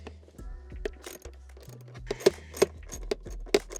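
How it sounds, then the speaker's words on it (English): Bolts are worked loose inside the trunk of a Hyundai Elantra N, with quiet ratchet clicks, metallic taps and a few sharp clinks spaced through a low background hum, no talking. "There is two 10mm bolts that you have to remove inside here."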